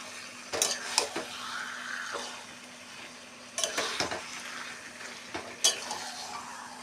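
A spoon scrapes and clanks against a pan in a few separate bursts as taro leaves simmer, with a soft bubbling sizzle and a steady low hum between the stirs.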